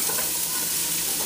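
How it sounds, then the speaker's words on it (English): Onions sizzling in a hot pot as they start to caramelize for French onion soup, a brief, steady, close frying hiss. "We're going to take the onions into our pot and caramelize them."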